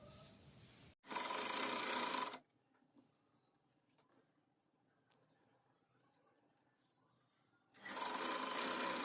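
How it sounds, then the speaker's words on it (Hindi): An electric sewing machine stitches a lehenga waistband strip in two loud, steady whirring bursts, one short and one starting near the end, separated by a long quiet stretch of faint handling noises. "अंदर की तरफ से हमें आधे इंच पे सिलते हुए पूरे घेरे को तैयार कर लेना है"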